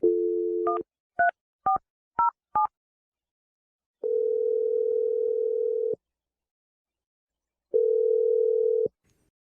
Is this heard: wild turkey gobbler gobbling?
no